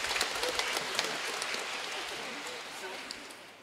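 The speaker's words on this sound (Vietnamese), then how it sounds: "xin cảm ơn một tràng pháo tay dành cho ca đoàn rất hay" A church congregation applauds the choir with a sustained crowd clapping that fades gradually, while a voice speaks over it.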